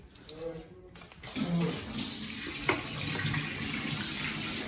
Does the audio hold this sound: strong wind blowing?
no